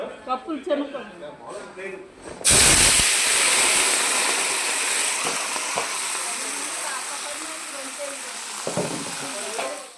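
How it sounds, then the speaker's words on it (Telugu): Brief talking, then a sudden loud sizzle as tempering spices, green chillies and curry leaves hit hot oil, settling into a steady crackling fry that continues to the end. "ఇదిగండి తాలింపు చక్కగా వేగిపోయింది కదా"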